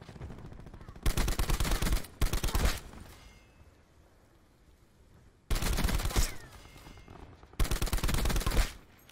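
Automatic gunfire from an online shooter game rattles out in four sharp, loud bursts separated by quieter gaps.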